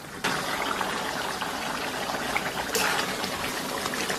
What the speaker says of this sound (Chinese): 咱们给里边来点这个水淀粉